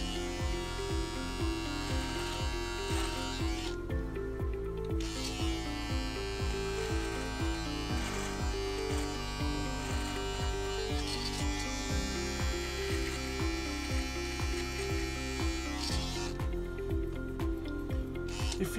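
Electric clippers trim a beard with a steady buzz that runs through the whole stretch, set over a loud, rhythmic backing track that mostly covers it.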